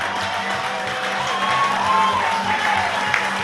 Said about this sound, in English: And the crowd's going wild.